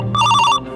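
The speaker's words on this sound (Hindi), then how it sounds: "तो फोन आया होता है" A telephone rings loudly for an incoming call, one short electronic trill heard close and on its own.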